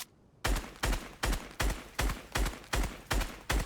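An AK rifle in Fortnite fires at a brick wall, eight loud, evenly spaced single shots in a steady rhythm after a brief quiet start.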